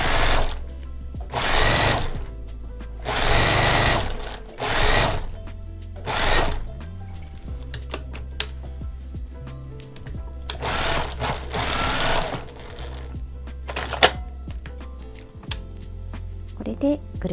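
A sewing machine stitches a 1 cm seam around a fleece neck warmer in several loud rapid-fire bursts of needle clatter, separated by pauses where someone talks.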